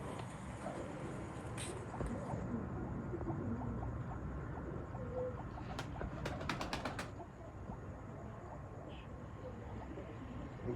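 Pigeons of the Sadhna breed coo steadily at moderate distance, with a brief burst of wing flapping or clicks midway and a constant background hum.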